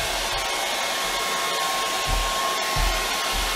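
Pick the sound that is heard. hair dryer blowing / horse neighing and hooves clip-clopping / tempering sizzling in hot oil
hair dryer blowing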